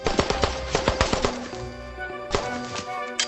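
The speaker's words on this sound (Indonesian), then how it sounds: "ada suara tembakan dari sana" Rapid bursts of video game gunfire crack in quick succession, several sharp loud shots clustered together with a brief pause, no talk over them.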